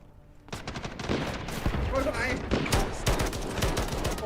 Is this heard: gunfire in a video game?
yes